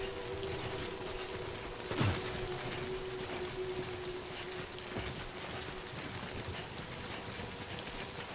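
Rain falls steadily in the video game Death Stranding, a faint, even hiss of drops with a brief louder knock near the start and no speech.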